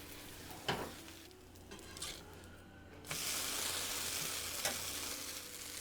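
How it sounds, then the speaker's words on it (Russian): A thin crepe fries in a pan with a soft, close sizzle that brightens into a steadier hiss partway through, punctuated by a few brief clatters of the pan or spatula. "Вторую сторону сильно не обжариваем, не пересушиваем блинчик."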